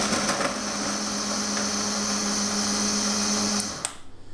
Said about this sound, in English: Now to blitz around half a loaf of bread in the blender